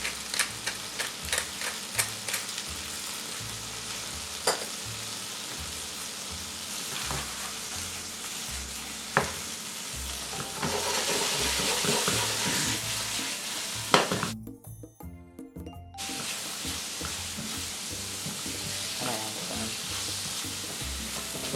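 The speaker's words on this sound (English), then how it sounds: "When you're cooking spinach, you don't want to cook it too much because it just turns slimy" Spinach sizzles and crackles in a frying pan, a steady close frying hiss broken by stirring scrapes and a brief swell and drop near the middle, with no talking.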